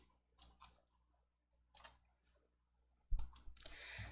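Computer mouse clicks and Ctrl key presses while working in an Excel spreadsheet, with a few sparse, crisp clicks followed by a closer cluster of rapid taps near the end, quiet and isolated.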